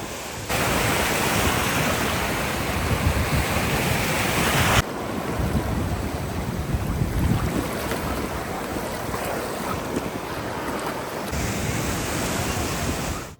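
Rough sea surf rolls onto a quiet beach at Spille, Albania, a continuous loud roar of breaking waves mixed with wind buffeting the microphone, with no voices heard.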